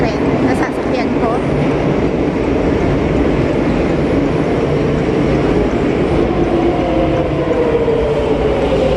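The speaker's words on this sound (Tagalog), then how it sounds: "So, ayan na yung tren na sasakyan ko." A Line 6 metro train pulls into Principe Pio station, a loud, continuous rolling rumble with rising wheel and motor whine that fills the platform for several seconds.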